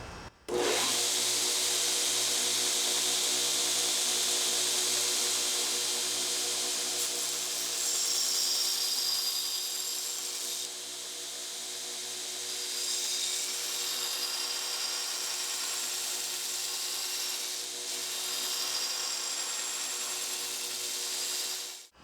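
A grinder works a knife's bevel edge, a loud, steady high-pitched whine held close for over twenty seconds with small shifts as the blade is pressed and passed across.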